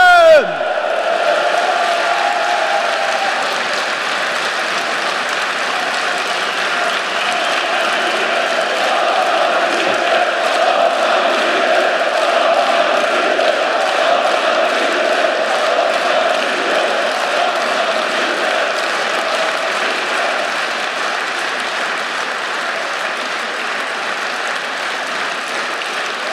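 A large crowd at a Vlaams Belang party congress roars with sustained applause, cheers and whoops for Tom Van Grieken's re-election as chairman, a loud, continuous wall of sound lasting over twenty seconds.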